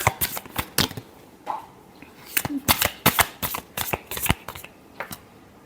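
Tarot cards being shuffled in quick, irregular bursts of crisp riffling and flapping, close and fairly loud, with short pauses between the bursts.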